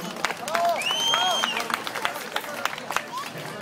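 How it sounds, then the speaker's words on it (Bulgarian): An audience at a bar academy event in Gabrovo breaks into applause for the school and its director, a dense burst of clapping with cheering voices and crowd murmur, fairly close and sustained. "Аплодисменти за училище,"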